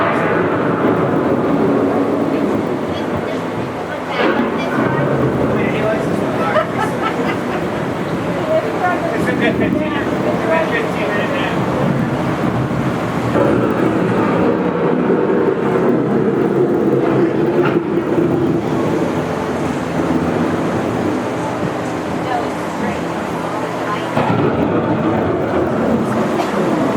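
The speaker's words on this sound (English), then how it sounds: "The approaching storm may seem violent and destructive to us, but to nature, it's a new beginning of the cycle of life." Approaching thunderstorm effect on a theme-park dark ride in The Land Pavilion at Epcot, a loud continuous rumble of wind and thunder that swells and dips across the whole stretch, with a narrator's voice heard over it.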